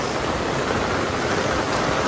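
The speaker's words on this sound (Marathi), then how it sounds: "हा अवकाळी पाऊस आहे पण एकदम वादल्यासारखा पाऊस पडतोय" Heavy unseasonal stormy rain pouring down, a loud dense unbroken roar of water close by with no voices.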